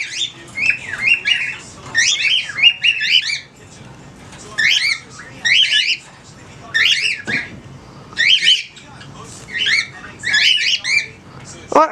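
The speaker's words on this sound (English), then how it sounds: "Yeah, you birds definitely know the storm's coming." Pet birds squawking loudly ahead of a storm, harsh repeated calls in bursts with short pauses, close by, with occasional faint background noise.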